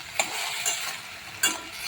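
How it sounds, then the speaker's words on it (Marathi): Spring onion jhunka with turmeric, coriander powder, chili and garam masala stirred in a sizzling pan, a steady fry hiss broken by three distinct scraping strokes of the spoon. "व्यवस्थित मिक्स करून घ्या।"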